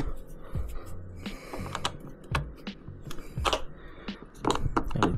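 A wrench works loose the air filter bolts on a Royal Enfield Himalayan 411 motorcycle, giving a close run of irregular metallic clicks and taps with small knocks in between.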